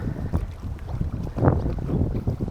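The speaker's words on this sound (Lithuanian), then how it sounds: "Vis dar lyja, ganėtinai stiprus vėjas, tai neplaukiam niekur." Strong wind on the Baltic Sea buffets a moored sailboat in rain, a rushing gusty roar with low rumbles and creaks, swelling loudest midway.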